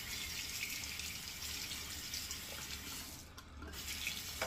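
A bathroom tap runs steadily into a sink for rinsing after a shave with a Karve Bison safety razor, a loud close gush with a brief dip near the end and no voices.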